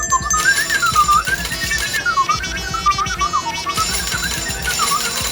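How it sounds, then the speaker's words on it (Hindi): A toy sound effect of toys moving on their own, a warbling electronic whistle-like tone that wavers up and down continuously over a busy rattling, clicking mechanical texture, loud and close. "खिलौनों की ये आवाज तो जानी पहचानी है"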